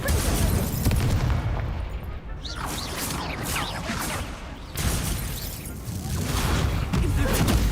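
Incendio fire spell cast in Hogwarts Legacy, heard as loud roaring bursts and booms that swell, ease off and return over several seconds amid dense battle noise.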